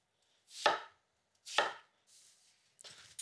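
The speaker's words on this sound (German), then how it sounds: "Wir schneiden das so in so circa 5 mm bis 10 cm dicke Scheiben." A kitchen knife cuts through apples in a few separate slices, each a crisp crunching chop, close and alone with quiet gaps between.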